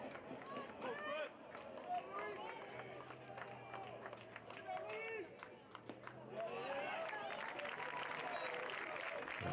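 St. Dominic fans at a high school baseball game, a crowd cheering and clapping in the stands, shouts and whoops rising and falling, with a commentator speaking over it.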